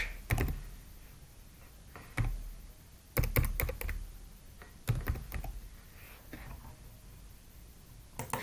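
Typing on a computer keyboard while working in a Google Sheets spreadsheet, with short bursts of close key clicks separated by pauses and a few louder taps.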